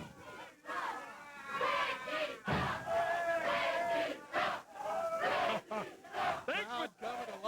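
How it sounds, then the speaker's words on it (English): A wrestling studio audience shouts and cheers during a match, with bursts of crowd yelling and voices rising and falling under a commentator talking. "Crowd coming to life."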